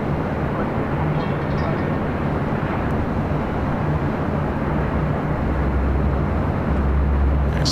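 Boeing 787 Dreamliner taxiing at LAX toward the south side over a taxiway bridge, a steady low engine rumble and broadband hiss with a faint hum near a construction area, constant and moderately close.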